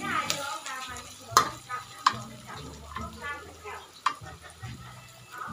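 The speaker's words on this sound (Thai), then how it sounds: "เจียวให้เหลืองๆเลยจ้าจะได้หอมหอมหอม" Beaten egg frying in a pan until golden, with soft sizzling and occasional scrapes and taps of a utensil stirring, close by, while someone talks over it.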